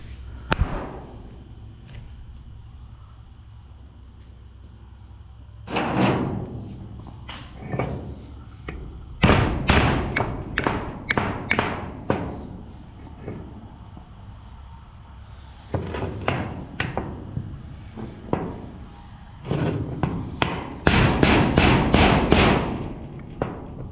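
Hammer strikes on a bolt driving old bushings out of a gooseneck trailer spring hanger, sharp metallic bangs in several rapid bursts with pauses between, close and loud against a quiet background.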